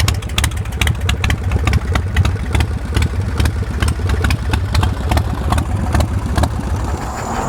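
A used Swift Bar Chopper motorcycle engine runs steadily up close, loud and continuous with a deep, even low-end rumble and rapid repeating firing pulses, no voices over it.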